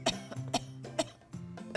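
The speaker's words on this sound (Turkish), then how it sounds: "Öksürüyorum da." A series of about five short, harsh coughs comes in close, irregular bursts from a person feeling ill with a fever.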